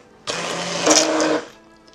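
An electric stick blender whirs in lard soap batter, starting abruptly, rising in pitch midway, then cutting off after about a second, close and loud with no talk.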